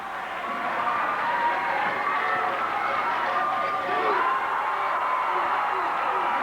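A basketball crowd at a 1987 college championship game roars steadily throughout, a dense, sustained wall of cheering and shouting with no clear pauses.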